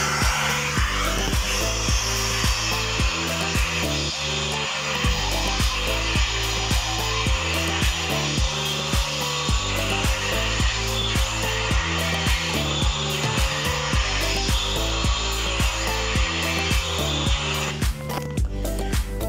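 A Truper 6 HP wet/dry vacuum, a three-in-one vacuum, blower and extractor, runs continuously up close with a loud, steady whooshing motor roar and scraping, rubbing noises from the nozzle, and no speech.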